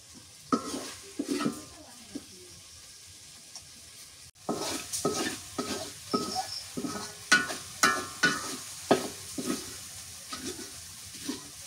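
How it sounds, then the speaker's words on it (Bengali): Jute greens sizzle in a hot pan while a spatula scrapes and stirs in a steady, repeated rhythm of sharp strokes. "পাটের শাক ভাজি করি"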